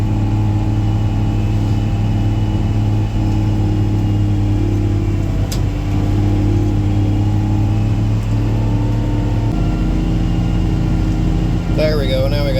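A heavy earthmoving machine cuts and pushes dirt at a new work site, its engine a loud, steady, close drone throughout that shifts pitch as the load changes partway through.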